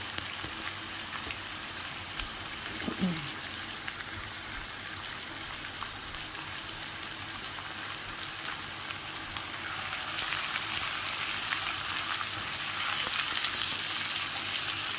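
Sliced onions sizzle steadily in a pan, being lightly fried as the base for a small-shrimp bhuna; a continuous close frying hiss with no talk, growing a little louder toward the end.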